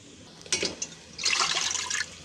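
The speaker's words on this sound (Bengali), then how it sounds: "ওল কেটে ধোয়া হচ্ছে" Water splashing over cut yam pieces being washed in a kitchen, a short splash followed by a longer rush of running, sloshing water, close and moderately loud.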